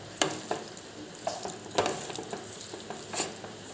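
Prawns for pickle fry in a pan with a faint sizzle, punctuated by several sharp scrapes and clinks as a spatula stirs them, close and fairly quiet.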